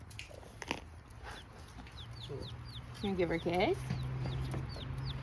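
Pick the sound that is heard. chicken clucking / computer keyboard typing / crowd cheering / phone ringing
chicken clucking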